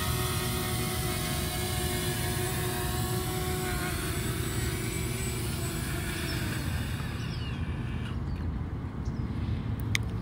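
Steady broadband engine and rotor whir from a Hubsan Mini SE drone as it lands, loud and continuous for the whole stretch, easing slightly at the end, with no speech.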